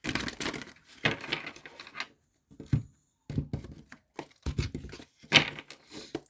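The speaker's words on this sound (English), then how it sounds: "One more shuffle." Tarot cards being shuffled by hand, a run of crisp papery riffles and slaps in separate bursts with short silent pauses between them, heard up close.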